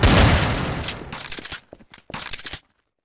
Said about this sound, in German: du hast zuerst geschossen